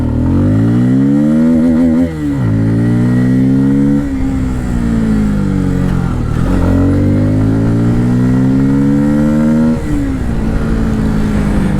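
Bajaj Pulsar F250 motorcycle under way, its engine pulling hard through several rising gear sweeps with brief dips at each shift, loud, steady and close, with no voices.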